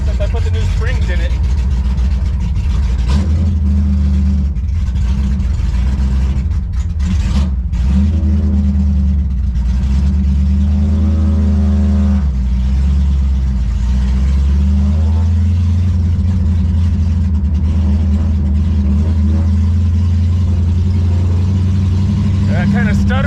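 Engine of a 1957 Chevy Sedan Delivery pro street car, heard from inside while driving, a loud low rumble that stutters and surges unevenly as it cuts out, with someone talking over it.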